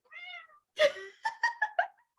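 A cat meows close up: one drawn-out call, then a quick run of four or five short, chirpy meows.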